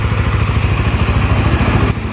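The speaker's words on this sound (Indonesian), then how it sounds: "Motornya hidup." A Honda Sonic 150 motorcycle engine running steadily up close, a loud, even mid-pitched idle with a fast, regular pulsing throb and a brief tick near the end.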